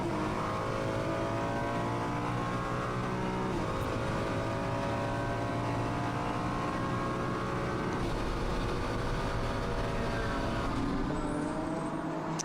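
Onboard a Ferrari race car at Okayama during a Japan Cup race, the engine roaring continuously and loudly, its pitch climbing and dropping through gear changes for the whole stretch.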